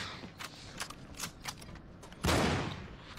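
Gunfire in the survival horror game Anabiosis, Sleep of Reason: a string of sharp separate shots spaced out, then a louder, longer burst near the end, close and without talk.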